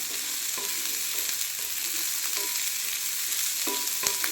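Paneer and corn stuffing fry in a pan with a loud, constant sizzle, broken by a few clinking stirs of a utensil against the pan. Heard up close, with no talking.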